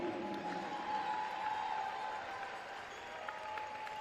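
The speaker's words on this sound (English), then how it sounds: "Fans, please give a round of applause one more time to Royal Crown School." Fans applaud in a gym during a boys' basketball league final, a steady wash of distant crowd clapping with some murmur, sustained at an even level throughout.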